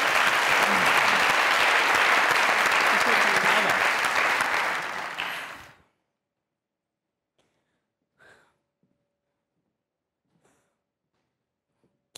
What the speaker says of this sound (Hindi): अरे बहुत सारी तालियां।